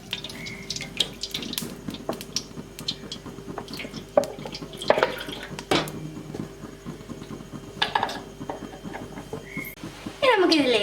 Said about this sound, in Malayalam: അതിലേക്ക് ഓയിൽ ഒഴിച്ചു കൊടുക്കാം.